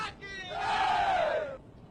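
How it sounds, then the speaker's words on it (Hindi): A mob beating a man transporting cattle in Sonapur, Guwahati: one loud, drawn-out rising and falling shout from the crowd, lasting about a second over a murmur of other voices. "पशु ले जा रहे शख्स की भीड़ ने जमकर पिटाई की।"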